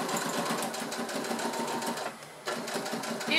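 A sewing machine runs steadily as it stitches a straight fabric seam 5 mm from the edge of a basket bag that converts to a backpack. The rapid, even needle chatter pauses briefly near the end, then resumes, loud and close.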